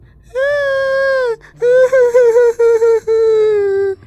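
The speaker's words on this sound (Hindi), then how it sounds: "रोने की आवाज़ सुनकर दयालु चुप हो जाता है और देखता है कि ये आवाज़ तो कुएं से आ रही होती है" In an animated folk tale, a voice cries for help from inside a well: one long wail, then a run of broken, sobbing moans, loud and close, with no other sound.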